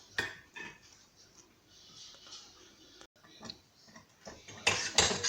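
A spoon scrapes and clinks against a pot while rhubarb pie filling is stirred, giving irregular close taps and scrapes with a louder clatter toward the end.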